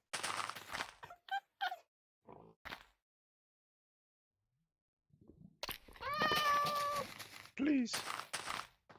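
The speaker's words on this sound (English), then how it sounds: "Let me feed these 2 fish to this cat." A cat in the Minecraft video game meows several times while being fed fish, short mewing calls in bursts separated by pauses, with a longer drawn-out meow later.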